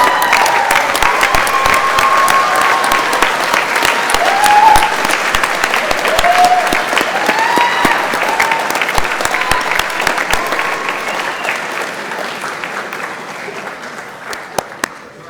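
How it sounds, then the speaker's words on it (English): A large crowd at a mechanical engineering graduation ceremony applauds steadily, the clapping loud and sustained throughout, slowly thinning and fading toward the end. "could you please stand up and give them a round of applause"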